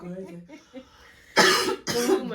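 Two harsh, close coughs in quick succession, loud and breathy, following a brief stretch of quiet speech.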